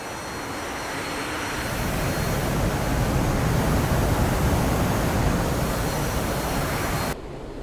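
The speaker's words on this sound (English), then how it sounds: "you have successfully restarted the engine in midair" Restarted A-4E jet engine running midair in a flight simulator game, a loud, steady broadband roar that swells after the first second and cuts off abruptly near the end.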